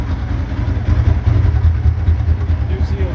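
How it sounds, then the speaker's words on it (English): A 2013 Polaris RZR XP 900 side-by-side with a shop-rebuilt engine that doesn't run right, idling steadily with a low, rumbling, slightly uneven note close by. "It's actually idling."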